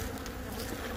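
Winter bees of an Ottoman-type colony buzzing steadily and close, a dense continuous drone with no voices.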